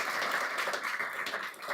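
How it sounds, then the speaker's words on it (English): Audience applause at the close of a panel discussion on artificial intelligence: a brief, even wash of many hands clapping, steady and moderately loud. "Please give them a nice round of applause."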